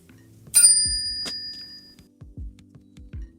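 A notification bell chimes twice, bright and ringing, with the first strike lingering, followed by a series of soft low pulsing blips.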